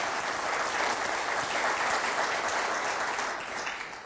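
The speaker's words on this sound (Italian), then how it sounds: "mando un caro saluto, un applauso a tutti i nostri corregionali che sono all'estero" Studio audience applause in a regional television broadcast hall, a dense, steady wash of clapping that holds at full strength for about four seconds before tapering slightly at the end.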